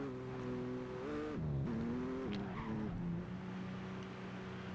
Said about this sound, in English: So he's coming in the pit, comes in smooth, no problems